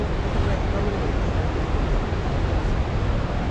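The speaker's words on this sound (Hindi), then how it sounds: "खाली ध्यान से आवाज़ सुनो पानी की" Rushing water of a mountain river near Kedarnath, Uttarakhand, a steady broadband roar that fills the whole clip, loud and close, with no pauses or talk.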